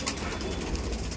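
Pigeons cooing, Punjabi high-flying breeds such as kalsire and desi birds, with soft, low coos over a rough, steady background for just over a second.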